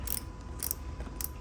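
A hand ratchet with a 10 mm socket loosens the bolt on a Subaru Impreza battery terminal, giving three short bursts of rapid clicking close by, with no talking.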